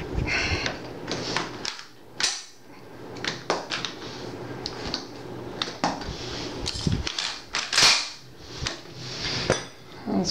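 A VZ 59 belt-fed rifle in 7.62x54R is handled as its action is locked and loaded, giving a series of sharp metallic clicks, clacks and knocks at irregular intervals, close up, with brief faint voice in places.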